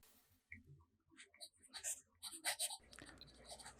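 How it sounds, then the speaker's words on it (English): Kaweco Sport fountain pen with a 1.5 stub nib scratching across a reporter pad, soft close strokes and taps in short irregular bursts, faint and quiet. "The next writing sample is done on a WritePad's reporter pad."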